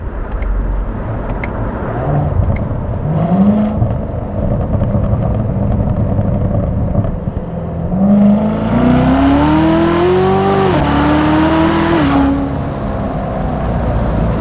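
A 650 hp 2019 Corvette C7 Z06 accelerates hard, its loud engine note climbing through two long surging pulls with a brief break between them, captured from inside the car.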